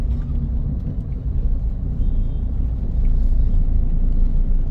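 Toyota Etios diesel car driving in third gear, giving a steady low engine and road rumble from inside the cabin that swells slightly toward the end.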